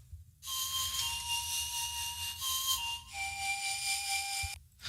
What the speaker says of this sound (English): This is like some sort of a wooden flute, I think.